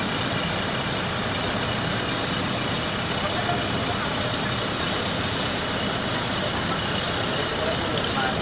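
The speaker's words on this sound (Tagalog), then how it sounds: "normal na uli ang makina, oh." A car engine runs steadily after a repair for a crank-no-start fault caused by water in the gasoline, a continuous even hum heard close up with some talk around it.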